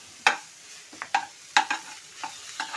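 Maggi noodles, four packets, stir-fried dry in a pan with spice mix, giving a series of close, sharp scraping and sizzling stirs in irregular bursts with faint frying hiss between them.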